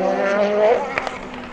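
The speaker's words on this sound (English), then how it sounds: "Pretty near the track, you can hear the cars still going round." Race cars circling the Le Mans track, heard from the car park near the circuit as a steady, moderately distant engine drone with a couple of brief louder passes, no talk over it.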